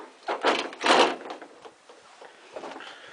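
A heavy, stout utility closet door in a junkyard shifts open or shut, two solid thumping knocks close by, followed by softer scraping and rattling.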